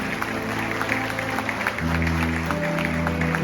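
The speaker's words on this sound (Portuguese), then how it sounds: "Então aplauda ao Senhor em nome de Jesus." A church congregation claps together during a Sunday service, steady applause over sustained organ or keyboard chords that shift midway, fairly loud and close.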